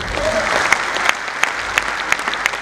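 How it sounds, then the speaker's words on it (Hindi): A small audience at a Haryanvi poetry stage show claps steadily, with a few sharper individual claps punctuating the soft, even applause that continues throughout. "15-20 लोगों ने ताली बजाई है,"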